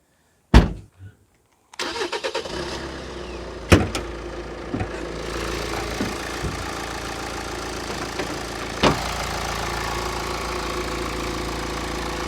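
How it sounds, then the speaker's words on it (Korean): A Kia Sportage R car engine cranks and catches after a short silence, then settles into a steady idle with a few sharp knocks and clicks. "이 엔진 소리 좀 크게 느껴지실 수도 있긴 한데 아주 정상적인 컨디션을 유지하고 있는 엔진 소리입니다"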